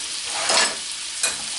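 Deer heart gravy, thickened with a little added fat and grease, sizzles steadily in the pan, with two louder stirring scrapes breaking through the frying hiss; no one speaks.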